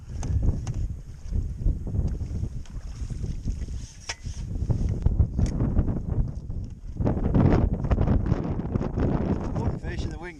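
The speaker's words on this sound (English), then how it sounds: "One fish and the wind gets up again." Gusty wind buffets the microphone at Twin Oaks fishing lake, White Acres, a continuous low rumbling roar that swells and eases throughout, with faint talk beneath it.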